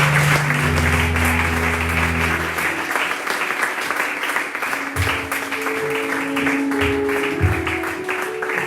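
A church congregation applauds steadily to acclaim the Lord, with dense, continuous clapping over sustained organ or keyboard chords and a few voices.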